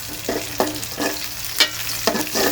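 Green chilies drop into kolai greens frying in a little oil, with a steady sizzle and a spoon or spatula stirring and scraping in regular strokes, close and fairly loud.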